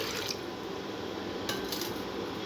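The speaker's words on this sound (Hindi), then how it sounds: "अब मैं ये 2 गिलास के करीब तकरीबन पानी ऐड करूँगी।" Water, about two glasses' worth, poured into a pressure cooker holding soaked chickpeas, a continuous splashing rush heard close and alone.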